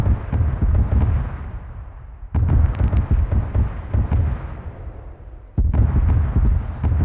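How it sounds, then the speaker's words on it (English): Heavy mortar and artillery blasts in ArmA 3 during a military exercise, three loud booming detonations with rolling rumble between them, each hit sharp and close. "let's see if they hit one of their own air assets with a mortar"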